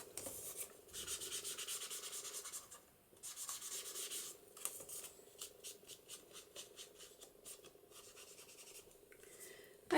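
An ink applicator rubs along paper edges for a journal page pocket, giving soft close scratchy swipes in repeated strokes with short pauses.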